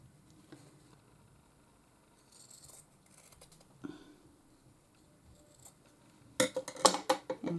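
A small piece of fabric is cut with scissors, crafting a trinket box: quiet at first, then a close, crisp burst of several rapid snips near the end.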